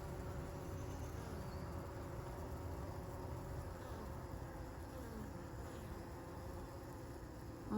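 Honeybees hum in a steady, dense drone at the entrance of a yellow hive early in the morning, a continuous close buzzing with no pauses and no voices.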